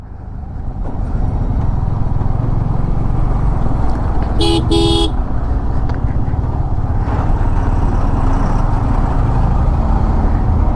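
Jammed highway traffic on NH8 rumbles steadily around a rider on a Yamaha R15 V4 motorcycle, engines droning loudly, with one short, sharp horn blast cutting through midway.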